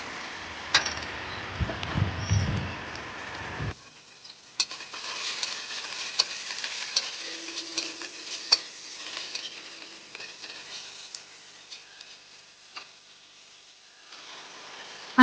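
Chopped tomatoes frying in a home kitchen pan, a soft steady sizzle with scattered ticks and scraping stirs, fairly quiet and close, no talking.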